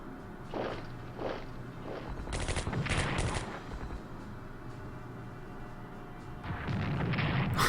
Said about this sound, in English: The AT guns continue to fire on my infantry.